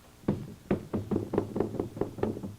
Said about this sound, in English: Who's knocking down the door?